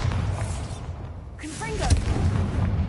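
Blasting spell cast in the fantasy action game Hogwarts Legacy, heard as a single sharp burst with a brief whooshing tail over a steady rumbling game background, while a voice speaks the incantation.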